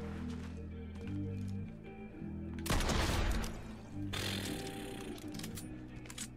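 Weapon fire in the video game Fortnite: a loud, dense burst of shots lasting over a second, then another sustained noisy stretch, over steady game music with tonal hum.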